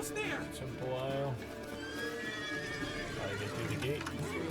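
A horse in a medieval video game lets out a high, wavering whinny near the start, over game ambience, while a player talks excitedly throughout.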